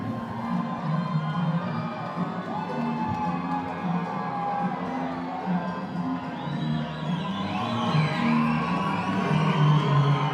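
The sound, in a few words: crowd cheering at amateur boxing match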